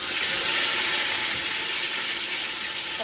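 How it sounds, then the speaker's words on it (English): Marinated meat in a Portuguese vinha de alho marinade sears in a hot pan, giving a loud, steady, close sizzling hiss that holds without a break. "So I'm gonna sear them"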